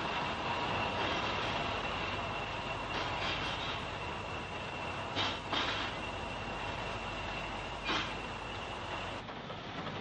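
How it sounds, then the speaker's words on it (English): A 1950s-60s LMS-era diesel-hauled passenger train from Scotland bound for Birmingham rolls through a station, a dense steady rumble with engine drone and a few sharper metallic surges, heard in grainy archive sound. "The train from Scotland continues its journey to Birmingham behind diesel power."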